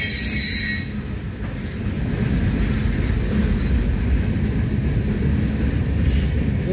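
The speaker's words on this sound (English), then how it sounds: "There's two mid trains right there." Freight trains roll past on the track with a steady, loud rumble of wheels and cars, a dense continuous mass of rail noise with a high metallic wheel squeal briefly showing at the start and again near the end.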